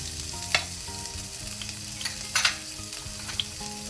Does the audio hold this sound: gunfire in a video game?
no